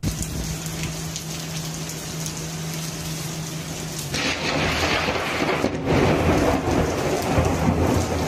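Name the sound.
thunderstorm with lightning strike and rain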